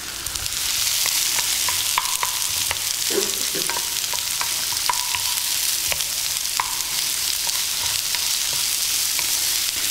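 Food frying in oil in a pan is stirred, with a continuous loud sizzle and repeated scraping clicks of the utensil against the pan throughout.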